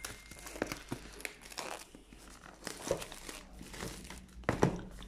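Packaging of a Bluetooth outdoor rock speaker being opened, with close crinkling and rustling plus scattered soft taps and tearing, irregular and moderately quiet, with no talk.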